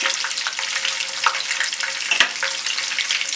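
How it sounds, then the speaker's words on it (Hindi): Garlic fries in hot oil with cumin and bay leaf for a chicken leg masala, giving a loud, steady, close sizzle with a few brief clinks of a spoon against the pan. "1 खाने के चम्मच बराबर लहसुन डालें"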